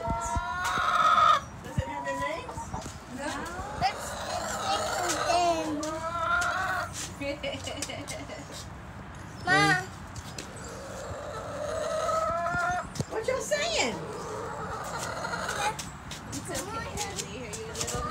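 Chickens cluck and a rooster crows around a farm chicken pen, with scattered clucks and calls throughout and people talking over the birds.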